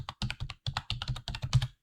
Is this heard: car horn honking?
no